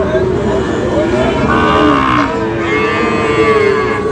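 Sahiwal cattle and calves at a cattle market moo in long, low drawn-out calls, fairly close, over a steady background murmur.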